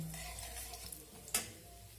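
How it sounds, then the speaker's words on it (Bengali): Whole cumin seeds and a dried chilli fry in refined oil, a soft, continuous sizzle with a light stirring scrape and one sharper clink near the middle, no talking. "এখন ফোড়নটাকে ভেজে নেব।"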